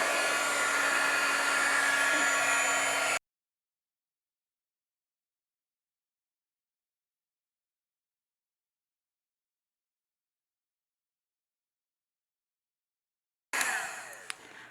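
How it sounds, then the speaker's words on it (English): Heat gun blowing hot air to emboss powder on a vellum overlay card, a steady loud whoosh for about three seconds, then cutting out to silence before briefly returning near the end. "And then we're going to heat emboss this again."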